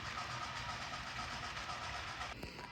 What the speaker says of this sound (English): Train's gonna keep chugging.